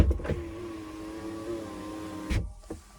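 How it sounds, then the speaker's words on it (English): The power-sliding rear window of a 2025 GMC Hummer EV Pickup, a steady electric motor whine running for over two seconds inside the cab, bracketed by soft clunks as it starts and stops. "back window, we can slide that up or down"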